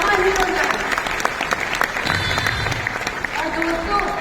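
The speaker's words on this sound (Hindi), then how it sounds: "आप सबके लिए तालियां होनी चाहिए" Audience applause at a Gama Hero event in Nagpur, a steady wash of many hands clapping throughout, with crowd voices and talk mixed in beneath.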